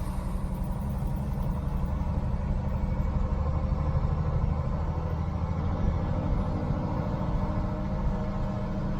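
Close and steady, a car engine fitted with a new Weber carburetor runs at a raised, even idle around 2,000 RPM, a continuous low rumble with no speech.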